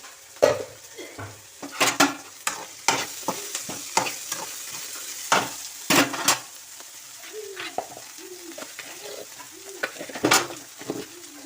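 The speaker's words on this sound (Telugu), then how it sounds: "మళ్ళీ ఒకసారి తీసి తిప్పుదాం, చూద్దాం." Bitter gourd curry being stirred in a pan: repeated scraping strokes and metal-on-pan clatter come in irregular bursts over a soft background sizzle of frying, close and moderately loud, with no talk.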